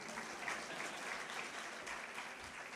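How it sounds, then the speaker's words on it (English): Quiet audience clapping in a lecture hall during a talk on healthcare services, a soft steady patter of many hands heard from a distance throughout. "Yes, you can clap."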